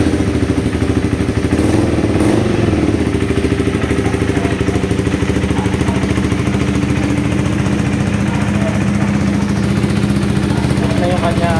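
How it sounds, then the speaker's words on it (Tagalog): A KTM Adventure 390 motorcycle engine, just fitted with a new air filter, runs steadily with a constant loud rumble and clatter for the whole stretch, with no clear starting burst. "So start natin yung bike."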